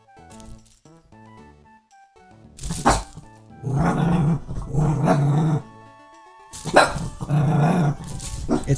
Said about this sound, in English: She shouldn't be barking.